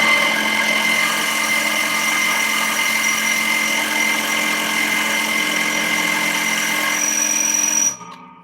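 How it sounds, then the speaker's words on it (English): Cheap wood drill bit grinding into hard metal, a steady loud whining drone with harmonic tones that runs continuously for about eight seconds, then abruptly stops. "Good metal is hard to drill through apparently with cheap bits"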